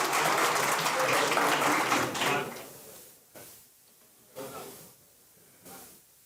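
A conference audience applauding to welcome a keynote speaker onto the stage, a full burst of clapping for about two seconds that fades into scattered faint claps.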